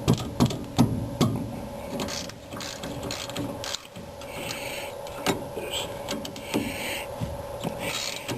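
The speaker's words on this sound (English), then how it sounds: "Alright, we'll take the two caliper bolts off." A ratchet wrench backs off the half-inch brake caliper bolts on a 1965 Ford Mustang GT, in a quick burst of close, sharp clicks and then scattered ratcheting and metallic knocks.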